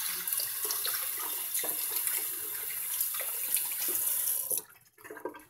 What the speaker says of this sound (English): take your cake and rinse it under some cold water to get all that extra dry vermiculite off of it